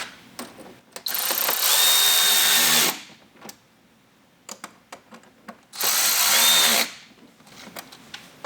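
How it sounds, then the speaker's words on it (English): A power driver with a T15 Torx bit snugs mud flap screws on a 2023+ Chevy Colorado ZR2, giving two sustained whirring bursts of about two seconds each, close and loud, with light handling clicks between them. "Now we're going to take our T15 Torx, and we're going to snug those down."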